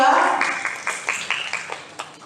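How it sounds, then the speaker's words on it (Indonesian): Audience at a student election debate for governor and vice-governor candidates claps for a candidate pair, a loud burst that thins into scattered individual claps and fades out over about two seconds. "beri tepuk tangan untuk paslon nomor 2"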